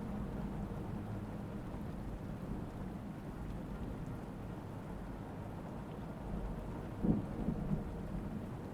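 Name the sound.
rain and thunder sounds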